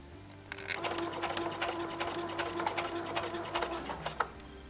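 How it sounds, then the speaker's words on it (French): A sewing machine runs steadily for about four seconds, its needle clattering in a fast, even rhythm as it stitches along the diagonal of a small fabric square for a quilt block, close and fairly loud before stopping. "vous allez coudre à la machine en suivant cette diagonale"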